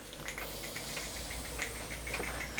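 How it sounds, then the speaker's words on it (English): Steam hisses steadily from leaking joints on a small model vertical boiler steam engine that is losing pressure, a continuous close airy rush with faint irregular ticking and sputtering over it. "There's too much steam leaking out of here, and it's just losing pressure basically."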